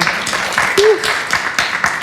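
An audience snaps fingers and claps at a talk, producing scattered, moderately loud sharp pops and taps with a brief vocal sound in the middle.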